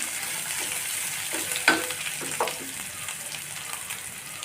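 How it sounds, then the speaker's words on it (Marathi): Sliced onion stir-frying in a pan for hakka noodles crackles with a moderate sizzle, punctuated by a few sharp scrapes and knocks of stirring. "आता मी ॲड करते एक उभा कट केलेला कांदा कांदा थोडासा स्टर करून घ्यायचा आहे"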